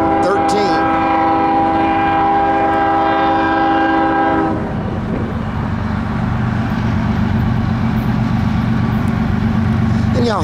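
CSX manifest freight train led by ES44AH and ET44AH locomotives, loud horn blasts sounding near in the first four seconds, then the steady rumble and rail clatter of cars rolling past.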